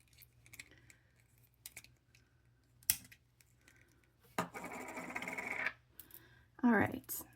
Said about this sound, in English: just snip that so I can get the rest of this wire out of the way